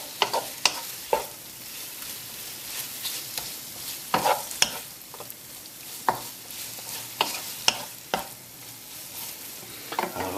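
Lamb pieces coated in spices and tomato puree fry in a pan, a steady sizzle broken by repeated sharp scrapes and knocks of stirring, close and clear with no talking.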